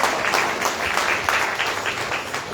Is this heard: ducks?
no